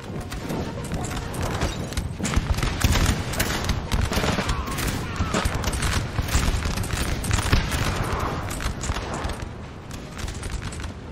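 Massed musket volleys crackle from troops firing down an alley in the Napoleonic battle game Napoleon Total War, a dense, continuous rattle of shots with occasional heavier booms.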